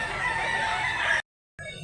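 A rooster crows loud and close at a rural chicken market in Mantalungon, Barili, Cebu, one long sustained call that stops abruptly, followed after a brief silence by the start of another bird sound.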